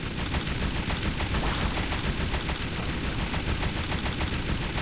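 Dense, rapid automatic gunfire from the zombie shooter game SAS: Zombie Assault 4, loud and continuous throughout with no pauses and no voices.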